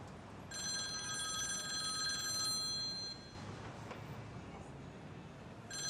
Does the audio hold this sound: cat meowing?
no